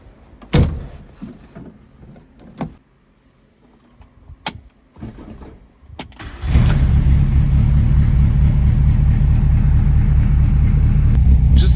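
A historic Lancia Appia GTE racing car starts after some clicks and door and key noises, then its engine settles into a steady, loud, rough idle that runs to the end.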